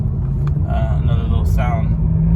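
A 2022 Subaru WRX engine fitted with a Burger Motorsports intake gives a loud, steady low rumble from inside the car while a voice talks over it.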